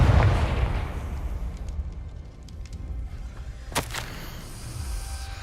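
Confringo blasting spell cast in Hogwarts Legacy: a heavy burst opens loudly, then a rumbling tail fades, and a sharp crack-like strike lands near the end over a low ambient background.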